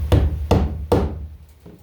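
Three firm hammer blows drive nails into plywood at a steady pace, each a loud woody thump that rings briefly, followed by a fainter tap.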